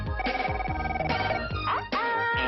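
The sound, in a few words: toy electronic telephone ringing, Le téléphone secret game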